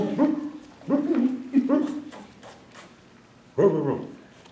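A voice imitates a dog barking during a children's storytime song, giving a few close, voiced woof-like calls in a short series with pauses between them.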